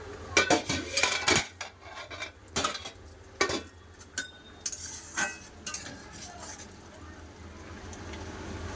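In a home kitchen, a pot of cooked mung dal with drumsticks is opened, giving a burst of close metallic clanks and clinks of lid and utensils that settles into a few lighter taps and faint ticking.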